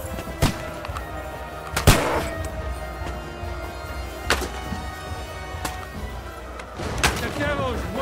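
Gunfire in the medieval video game Kingdom Come: Deliverance II, with several sharp shots spaced irregularly over a noisy battle backdrop, while shouting voices carry on throughout.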